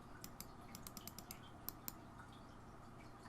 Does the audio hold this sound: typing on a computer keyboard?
yes